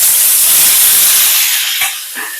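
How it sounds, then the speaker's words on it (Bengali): Boiled taro dropped into hot oil over a spice tempering gives a loud, steady hiss of sizzling that fades and breaks up near the end. "কচুটাকে এবার একটুখানি ভেজে নেব।"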